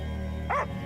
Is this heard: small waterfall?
no